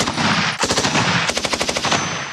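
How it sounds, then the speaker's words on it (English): Rapid bursts of live-ammunition gunfire on a military training range, a short volley followed by a longer rattling string of automatic shots, loud and close with no talking. "They'll use live ammunition,"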